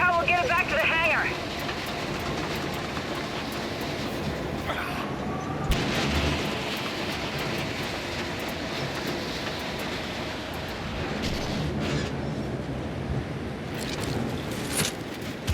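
A rocket-carrying train in the video game Gears of War 5 rumbles along with a continuous low roar and metallic clanks, while characters talk over the noise.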